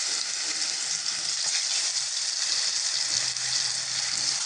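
Eggplant pieces coated in turmeric, salt and chili paste fry in hot oil on a stove, giving a steady, even sizzle that holds throughout.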